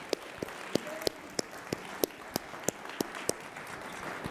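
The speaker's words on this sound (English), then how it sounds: "Round of applause." Sparse applause at an embedded Linux conference in Seattle, individual sharp claps spaced at a steady rhythm over a quiet room, faint and distant rather than a full ovation.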